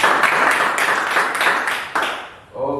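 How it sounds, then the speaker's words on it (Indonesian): Church congregation applauding during a Sunday worship service, sustained dense clapping from a crowd that fades out near the end as a few tonal notes emerge. "Boleh kasih tepuk tangan sekali lagi."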